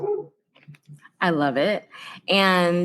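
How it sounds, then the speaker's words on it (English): A small puppy lets out high, drawn-out yelps and whimpering barks, loud and close, between short bits of a person talking on a walk through a forest. "There's like a little puppy in the background."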